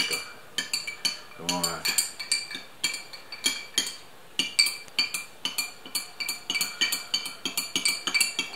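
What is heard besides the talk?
stirring homemade kissel in a pot with a spoon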